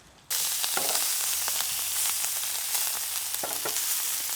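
Meat fries in a pan during an outdoor foraging cook, a sudden loud sizzle starting right after a quiet moment and crackling steadily with small pops throughout, no voices over it.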